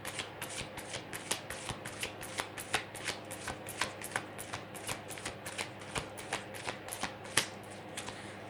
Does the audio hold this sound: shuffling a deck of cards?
yes